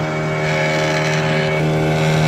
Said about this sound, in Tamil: ஒரு இன்ஜின் போட்டு தான் சின்ன போட்டில் நான் போயிட்டு இருக்கேங்க